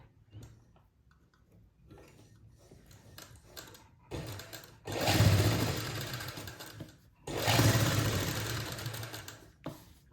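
A sewing machine stitches lace onto a kameez neckline alongside buckram, with light handling clicks first, then two loud, close bursts of rapid whirring stitching separated by a brief pause.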